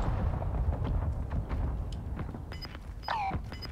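Mortar strikes explode in the Call of Duty Warzone video game, a run of heavy, rumbling booms and thuds that overlap densely, with a few sharp higher-pitched whistling tones near the end.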